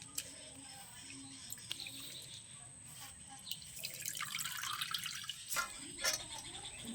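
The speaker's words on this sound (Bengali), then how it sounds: "বারবার জল পাল্টে একটু ধুয়ে নেবো যাতে আলুটা পরিষ্কার হয়ে যায় একদম" Potatoes are being rinsed in water in a kitchen, with faint drips and splashing and the trickle of a running tap, getting busier toward the end.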